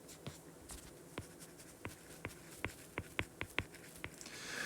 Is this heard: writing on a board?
yes